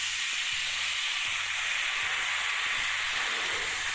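Red wine hits a hot skillet fresh from a 350-degree oven and sizzles, a steady loud steaming hiss close up with faint low rhythmic clatter underneath.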